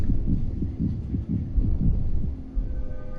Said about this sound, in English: I can feel her heartbeat in my remote.